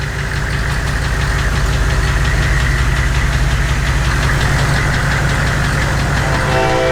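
A Humvee's heavy engine idles and runs steadily in gear throughout, with a low rumbling drone and a faint rhythmic knock, close and continuous with no talking.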